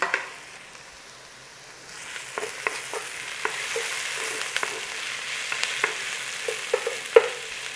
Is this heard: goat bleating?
no